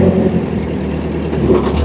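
A Ford N-series tractor engine (8N, 9N or 2N) runs steadily on an incline, a low continuous mechanical hum and rumble, close and fairly loud with no speech.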